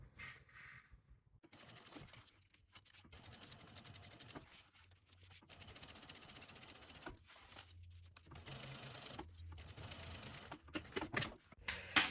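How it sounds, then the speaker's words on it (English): Sewing machine stitching a seam along the edge of fabric for a bag, running in several bursts separated by short pauses, close and steady with a whirring mechanical rattle. "we will go back to the sewing machine, and we are gonna sew 1 centimeter from the edge"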